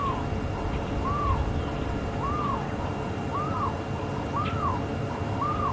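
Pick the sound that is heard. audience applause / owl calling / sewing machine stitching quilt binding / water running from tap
owl calling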